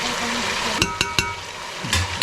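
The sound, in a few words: food frying and being stirred in a pan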